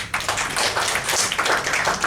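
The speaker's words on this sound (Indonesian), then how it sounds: "Tepuk tangan buat Tuhan" A church congregation claps hands together in a brisk, dense burst of overlapping slaps, loud and close, carrying on steadily for a couple of seconds without talk.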